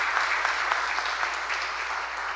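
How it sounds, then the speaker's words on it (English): Audience applause at a session of the AmeriGEO 2025 conference, honoring the panelists and organizers: dense, steady clapping from a full room, loud and continuous throughout with no talk over it. "If we could have a round of applause for the panelists as well as the organizers who helped put this together."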